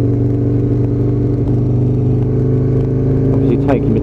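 An Aprilia RSV Mille motorcycle engine under light throttle on the road, giving a loud, steady mechanical drone with a brief rising rev near the end while a rider talks over it.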